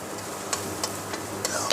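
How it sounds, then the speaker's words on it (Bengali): Boiled bean seeds fry in a pan for a mashed bharta, a steady low sizzle broken by several sharp scraping stirs of the spatula at irregular intervals, with no talk. "তারপরে জলটা টানিয়ে এভাবে ভেজে নিতে হয়, যাতে বিচিটা ভালোভাবে সিদ্ধ হয়।"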